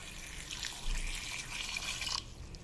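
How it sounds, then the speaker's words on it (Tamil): Water pours steadily into bitter gourd curry in a pot, a soft continuous splashing and trickling stream lasting a couple of seconds, close by and quiet with no voices. "ஒரு 200-250 ml அளவுக்கு தண்ணி சேர்த்துக்கலுங்க."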